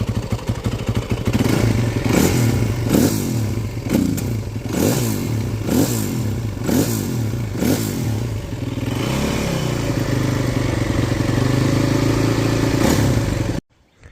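A motorcycle exhaust revs repeatedly, rising and falling in a series of sharp throttle blips, then holds a steadier roar before cutting off abruptly.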